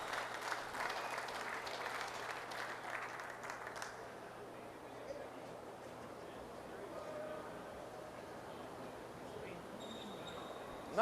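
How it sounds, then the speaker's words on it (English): Crowd applause at a men's racquetball semifinal at the US Open, starting as a dense burst of clapping that thins to scattered claps, with faint voices and court sounds in the background. "a round of applause from the crowd"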